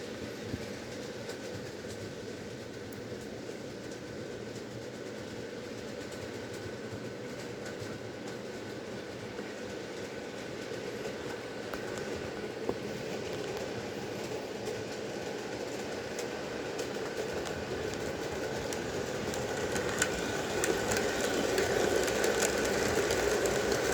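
Model train locomotive making a full lap of its track, a faint steady rolling hum with soft clickety-clack from the wheels, growing slightly louder toward the end, with no talk.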